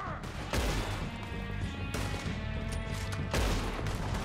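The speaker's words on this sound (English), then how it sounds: "this Deadeye shot is nice." Deadeye gunfire in the western video game Red Dead Redemption 2: sharp, loud shots crack out roughly every one and a half seconds over dense background game noise.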